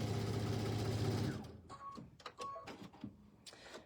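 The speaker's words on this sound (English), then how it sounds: "I'm going to go back and I'm going to top stitch on the edge of our fabric again" Sewing machine top stitching along the edge of a fabric tea towel, a fast steady mechanical whir for just over a second, then stopping and giving way to faint handling clicks and rustles.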